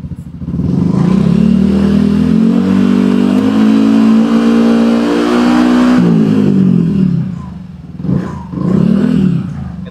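Yamaha NMAX scooter fitted with a new turbo exhaust revs loudly and steadily at close range, holding a deep throaty drone, then drops off and gives a few short blips of throttle near the end.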